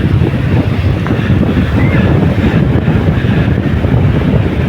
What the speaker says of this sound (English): it's just as windy today